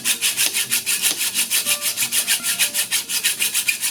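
Rhythmic back-and-forth strokes of a hand saw cut through thick BMX handlebar tubing, about four strokes per second, loud and close with a raspy, even cadence and no talking.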